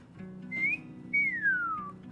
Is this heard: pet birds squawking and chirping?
no